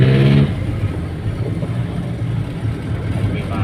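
Road traffic in Pasig city heading to Quiapo: a car engine rumbles steadily and close, with a louder tonal surge at the very start before settling into a continuous drone.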